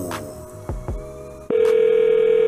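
A telephone call plays a few short tones, then a steady, loud, continuous dial tone holds to the end. No one speaks.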